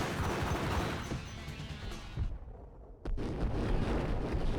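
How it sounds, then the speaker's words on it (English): Enemies open up with automatic weapons in Max Payne amid heavy, continuous gunfire and explosive crashes, broken by a sudden near-silent gap before a sharp blast restarts the loud chaos. "Ooh, they got automatics now."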